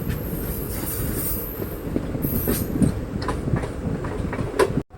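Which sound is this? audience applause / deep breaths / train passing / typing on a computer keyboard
train passing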